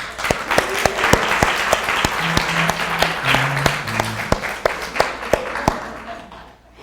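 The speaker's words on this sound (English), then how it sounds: "So please join me in giving our volunteers, all of you, a round of applause." A church congregation gives volunteers a sustained round of applause, dense and steady with sharp individual claps standing out nearby, a low murmur of voices underneath, fading toward the end.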